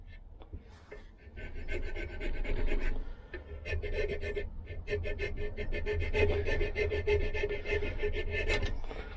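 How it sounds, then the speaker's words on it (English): Steady rhythmic rasping of sandpaper scrubbing across wood, back-and-forth strokes repeating continuously at close range. "And I like using these sanding blocks."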